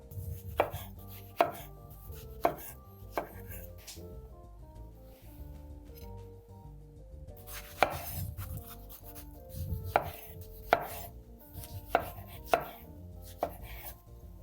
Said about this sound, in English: So now we'll take some of our smaller tomatoes and I'll slice them in half.